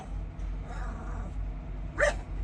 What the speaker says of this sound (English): Boy, that girl will bark at her own shadow.